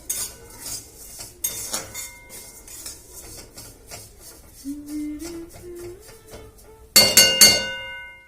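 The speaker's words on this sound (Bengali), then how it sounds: "সিমাইটা দেখো ভাজা হয়ে আসছে দেখাচ্ছি" A utensil stirs vermicelli as it fries in a pan, giving light metallic scrapes and clinks. A sharper burst of clanging at the end is followed by quiet background sounds, and no one speaks.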